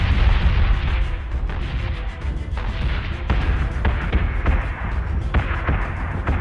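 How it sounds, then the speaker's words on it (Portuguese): Explosions and gunfire crackle through a space battle in the video game Battlestar Galactica Deadlock, a loud, continuous barrage of booming blasts and sharp repeated shots with deep rumbling underneath. "Vai ficar explodindo agora."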